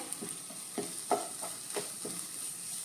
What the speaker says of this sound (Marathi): आता मी इथून 1 चमचो आला लसणी पेस्ट हे बरे करून मिक्स करून घ्या